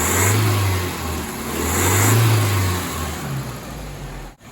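A 1985 Nissan 720 truck engine idles low just after its first start following a rebuild, a loud, steady rumble that rises and dips slightly in pitch before dropping off abruptly at the end.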